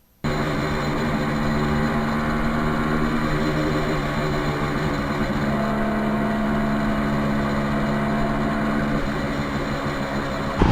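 A 1973 Kawasaki H1 motorcycle on a test ride, its two-stroke engine droning steadily and loudly for about ten seconds with buzzy harmonics and wind rush, no voices.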